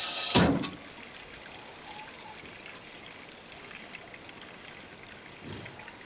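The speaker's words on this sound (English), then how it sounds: "Thing's dripping." Water dripping from a leaking fitting on an off-grid homestead, with one loud close splash near the start and a faint later drip over a steady trickling, rain-like wash of running water.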